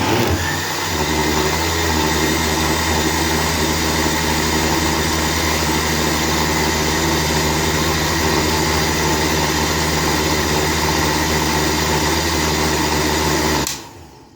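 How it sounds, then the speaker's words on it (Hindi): A blender grinds a strawberry milkshake with sugar, a loud, steady motor roar running continuously for about thirteen seconds before stopping abruptly. "सारी चीज़ ऐड करने के बाद इसे अच्छे से ग्राइंड कर लेंगे हम।"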